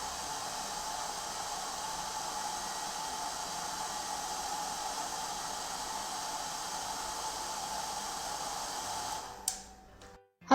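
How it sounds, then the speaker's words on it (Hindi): A hair dryer blows steadily to warm a sticker on crockery, a constant close whooshing hiss lasting about nine seconds before it cuts off with a few clicks and handling sounds. "इस तरह से हेयर ड्रायर को रखकर आधा मिनट के लिए चलाएंगे।"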